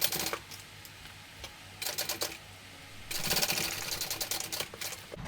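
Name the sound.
sewing machine basting fabric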